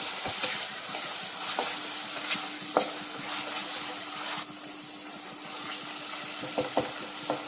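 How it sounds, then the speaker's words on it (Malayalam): Steady sizzling of tomatoes sautéing in a pressure cooker, with occasional stirring clicks and scrapes, continuous and fairly close, no voices. "ചെറിയ 2 തക്കാളിയാണ് ഇവിടെ ഇട്ട് വഴത്തിയെടുക്കാം"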